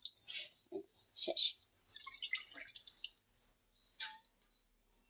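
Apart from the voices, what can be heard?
water dripping, added by hand to dough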